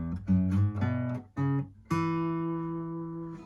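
Electric guitar plays a scale riff: a few plucked single notes followed by a sustained, ringing chord that slowly decays, played clean and alone.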